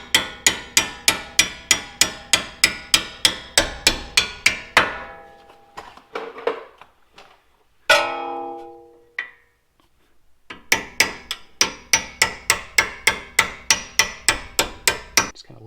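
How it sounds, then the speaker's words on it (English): A hammer taps a bolt through a shock absorber on an FJ Cruiser or 4Runner front lift kit, with rapid, evenly spaced metallic strikes in two bursts around a brief pause and a single heavier clank. "we're going to take a hammer and just kind of gently tap this through this hole"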